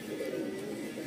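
A dub pigeon, a flying pigeon kept for competition, gives a low continuous cooing murmur close by, steady throughout with no voices.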